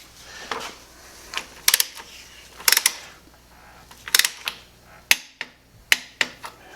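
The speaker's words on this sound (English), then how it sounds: "then we need to torque it to 60 Newton meters. So I have a 19mm socket and an torque wrench." A torque wrench with a 19mm socket tightens a bolt on an Energica Experia motorcycle front slider to 60 Newton meters, giving a series of close, sharp metallic clicks and ratcheting taps spaced irregularly, with no talk.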